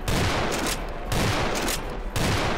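Rapid, loud automatic gunfire in Garry's Mod, three dense bursts of shots close up with brief breaks between them.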